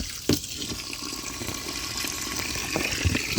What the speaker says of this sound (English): I need to let some of this water out.